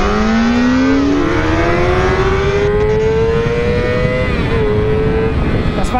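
A Kawasaki ZX-6R Ninja or Honda CBR 600RR sport bike with an Akrapovic exhaust revs hard and climbs through the gears, a loud, high-pitched engine wail rising steadily and close by over constant wind roar.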